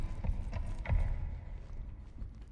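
Footsteps in the sci-fi horror video game Routine thud heavily and irregularly, several loud booming steps with mechanical clunks underneath, close and echoing, with no talk over them.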